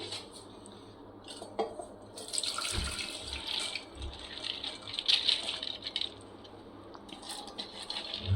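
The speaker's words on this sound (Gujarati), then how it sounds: "હવે આપણે આનું પાણી કાઢી લઈશું." Water drained from soaked mung and moth beans splashes and trickles in a sink, with dull clunks of a metal pot as it drains, steady and close.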